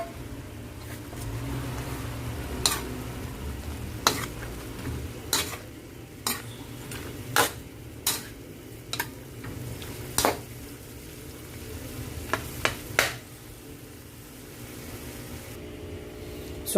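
Pork liver goes into a pan and fries with a low steady sizzle while a utensil scrapes and knocks against the pan in irregular stirring strokes, close and fairly quiet.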